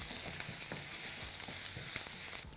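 Hing, cumin, green chili and ginger fry in hot oil while being stirred, giving a quiet, steady sizzle broken by soft scraping stir strokes every half second or so, with no talking.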